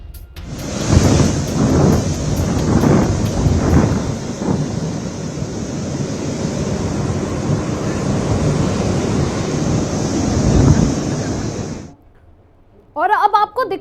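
Heavy rain driven by strong wind from Cyclone Fengal lashes Chennai, a loud, steady roar of downpour and gusts that lasts about twelve seconds before cutting off abruptly.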